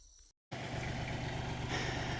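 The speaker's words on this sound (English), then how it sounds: "So hopefully, I hear Scotty coming on the tractor." A tractor engine runs steadily at close range, a loud, continuous mechanical drone that starts abruptly after a brief silence and holds even to the end.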